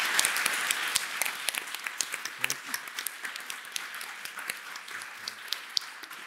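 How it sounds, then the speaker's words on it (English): Scattered, fairly quiet clapping from a small audience thanking panelists at a university talk event. The individual hand claps are distinct and slowly thin out over several seconds. "But I'd like to give a round of applause to our panelists to say thank you."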